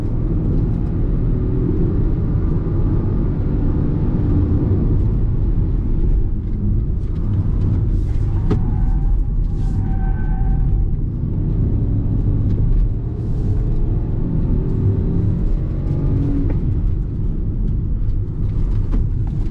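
A Hyundai Creta Platinum with a 1.0 turbo engine is driven at full throttle, its engine a steady, loud droning roar heard from inside the cabin, with no one talking.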